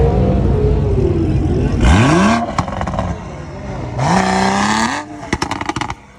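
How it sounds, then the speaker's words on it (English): A car engine at a car meet revs hard twice, each sharp rising roar followed by crackling pops as it drops back, over a steady background of crowd murmur and idling. "Can you rev your car?"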